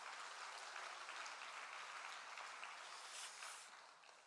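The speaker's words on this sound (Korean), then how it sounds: "여러분, 이렇게 기도하고 수고하신 모두에게 한번 격려의 박수 한번 했으면 좋겠습니다" Congregation at a Wednesday prayer meeting in a Busan church applauding together, a steady broadband wash of clapping that holds for several seconds and then gradually fades.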